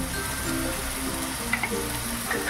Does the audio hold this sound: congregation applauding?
no